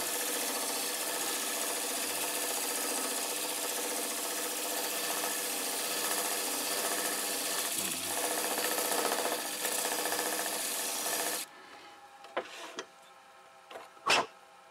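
A wood lathe spins a cholla cactus pen blank down toward its brass tube, giving a steady, fairly loud whirring hum with cutting noise for most of the span, then stopping abruptly, followed by a few faint knocks and clicks.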